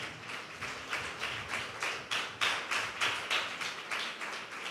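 A church congregation clapping hands together in a steady rhythmic beat during worship, roughly three claps per second, bright and fairly close, with no voices over it.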